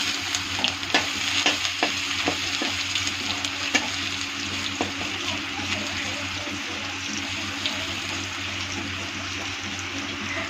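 Panch phoron and ginger fry in hot oil for sambar. A steady, bright sizzle continues throughout, with a cluster of quick crackles and pops early on that then settles into an even hiss. No one speaks.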